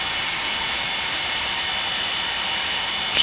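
Number 1 jet engine spooling up in a flight simulator cockpit, a steady high whine and hiss held at an even level throughout, with a faint click near the end.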